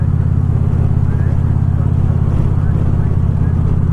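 A motorcycle rides along the road on the way to the gym, its engine holding a steady, loud, low drone from start to end with no clear revs.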